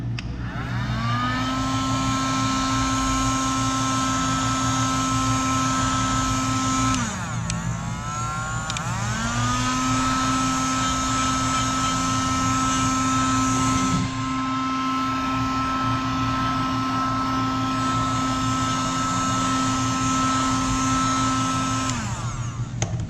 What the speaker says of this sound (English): the heat gun and the 1-bar sealer worked correctly